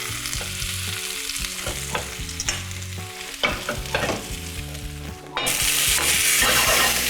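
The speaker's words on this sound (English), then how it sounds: "So our carrots have gone into a nice hot pan." Carrots fry in a hot pan with a close, continuous sizzle and stirring clatter, growing louder and brighter near the end.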